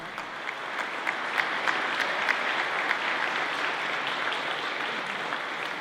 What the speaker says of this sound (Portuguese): E para receber o troféu, o vosso aplauso para Ricardo Pereira